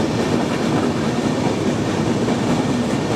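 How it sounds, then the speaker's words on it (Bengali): A passenger express train in Bangladesh rumbles past close by as a dense, continuous roar with faint rhythmic wheel clatter and no speech. "এই যে এখানে একটা ট্রেন আছে, এইটা হচ্ছে আমাদের মনে হয় বাংলাবান্ধা এক্সপ্রেস নাকি চিলাহাটি এক্সপ্রেস ট্রেন"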